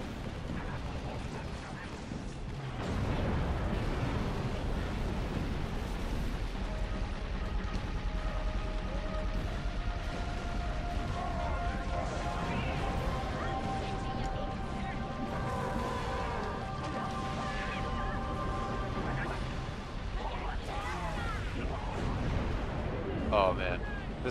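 Heavy weapons fire in the video game Halo 3, including a plasma cannon, with dense rumbling bursts and booms running continuously under a speaking voice throughout.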